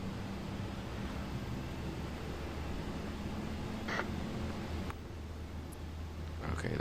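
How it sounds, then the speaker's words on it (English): Airliner jet engines after startup in a flight simulator, at Amsterdam before departure, a steady broadband roar and rumble that holds evenly throughout with no talk over it. "And we hear the engines roaring."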